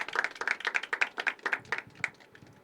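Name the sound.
audience clapping at a poetry open mic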